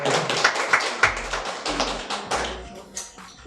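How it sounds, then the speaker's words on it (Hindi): Scattered audience clapping at a student meet function in a hall, a loose run of distinct claps with uneven rhythm that thins out and fades toward the end. "तालियां हो जाए"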